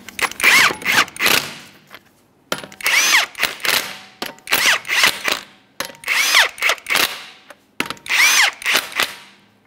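Power drill or impact gun spinning 21 mm lug nuts onto the front wheel of a 2011-2020 Toyota Sienna, five loud close bursts with short gaps, each spinning up and bottoming out, no talking.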